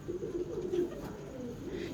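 Soft, low pigeon cooing close by, a gentle throaty burble repeating against a quiet background.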